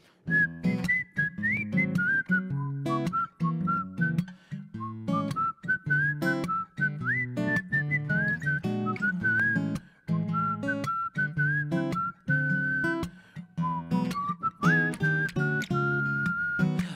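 A steady whistled melody carried over a plucked rhythmic accompaniment, bright and continuous with brief pauses between phrases.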